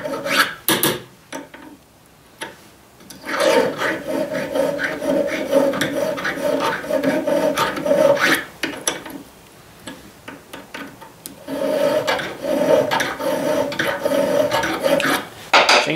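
Hand filing with a chainsaw file in a workshop, repeated rasping strokes in an uneven rhythm, loud and close, with brief pauses between sets of strokes.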